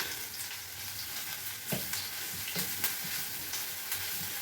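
Curry leaves and coriander seeds fry in a pan with a soft, continuous sizzle, and a spoon scrapes now and then during stirring, faint and close with no speech.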